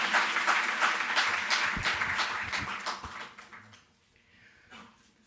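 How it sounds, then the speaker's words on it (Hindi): Audience applause welcoming the Chief Minister at a Delhi government sports event, a burst of scattered clapping that thins out and fades to near silence by the end. "तालियों से आप अभिनंदन करें"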